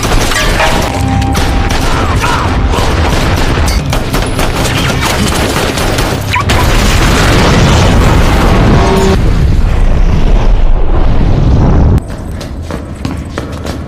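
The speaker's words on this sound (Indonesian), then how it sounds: "Terjadilah baku tembak yang cukup sengit." Dense volleys of gunfire crackle through a fierce film shootout, loud and continuous bursts layered with booming impacts and a heavy rumble, with no pause in the exchange.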